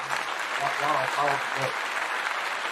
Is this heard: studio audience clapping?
yes